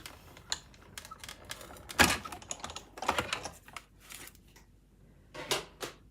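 Embossing folder topped with plate 4 cranked through a die-cutting machine, giving a string of crisp clicking and ratcheting taps, uneven in rhythm with a few louder bursts, close and fairly quiet.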